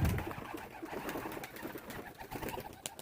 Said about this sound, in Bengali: এই এক্ষুনি ডাকছিল এই পায়রাটা।